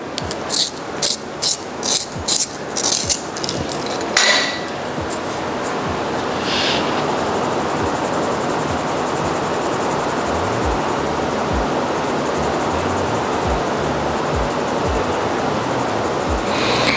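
A colored pencil in 90% cool gray is cranked through a sharpener, giving a quick run of close, rhythmic grinding clicks for several seconds, then settling into a steady soft hiss.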